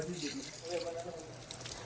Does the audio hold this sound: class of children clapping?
no